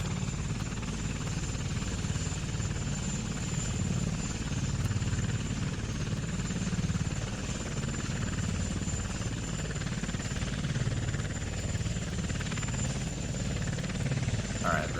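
A steady, droning helicopter rotor from Kerbal Space Program hums continuously at moderate level with a thin high whine, while someone talks over it.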